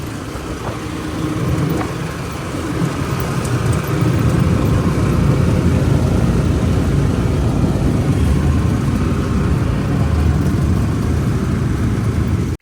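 Auto rickshaw engine running during a ride in Pakistan, a steady loud motor rumble with road and wind noise that continues throughout without talk.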